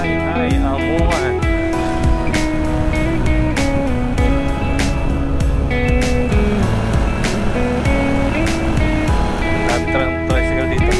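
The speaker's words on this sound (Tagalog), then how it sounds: "Tricycle dito." Motorized tricycles rumble along a busy street near Subic Bay, Zambales, a loud, continuous engine drone with shifting pitch and scattered rattles and clicks. Speech runs over it.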